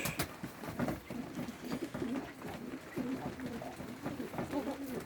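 Pigeons coo steadily at feeding time, a soft, low, continuous warbling from several birds close by, with faint voices in the background.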